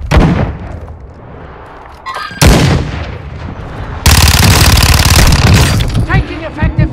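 Loud gunfire in the shooter game Call of Duty: Modern Warfare II: heavy rifle bursts and rapid automatic fire crack close by, broken by short pauses, with a voice heard over the shooting.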